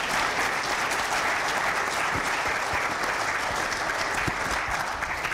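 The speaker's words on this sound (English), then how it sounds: "How about a big round of applause, please?" An audience at a sport leadership summit panel claps in a big round of applause, dense and steady throughout, loud and sustained with no voices over it.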